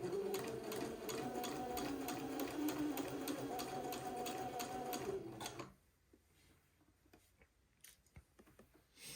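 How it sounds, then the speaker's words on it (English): A sewing machine stitches around a pair of shorts in a rapid, steady mechanical whir for about five seconds, then stops, leaving faint handling clicks and rustles. "I will stop and pivot again and sew across the top of the shorts."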